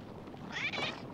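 A short, bright meow from a cat in Spelunky 2, a single rising-and-falling call over soft game background.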